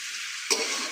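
Chicken being stir-fried (kosha) in plenty of oil hisses with a steady, close sizzle, broken by one short scrape of a stir partway through.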